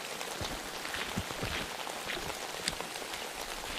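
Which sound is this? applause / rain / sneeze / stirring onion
rain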